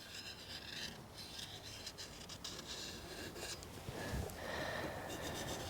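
Marker tip rubbing around the outline of an Alfa Romeo GTV headlight part, producing a continuous dry scraping that shifts pitch as the tracing changes direction, close up with no speech.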